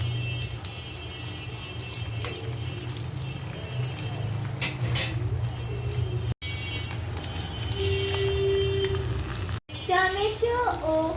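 Chopped onion fries in a pan with a soft, steady sizzle and occasional stirring clatter. The sound is moderately quiet and is cut briefly twice.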